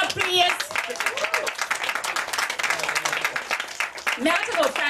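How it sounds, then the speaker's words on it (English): Guests at a 90th birthday party give a brief round of applause, scattered clapping mixed with crowd noise and an amplified voice speaking over it. "Give him a round of applause."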